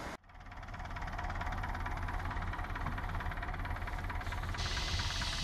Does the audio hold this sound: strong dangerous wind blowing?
no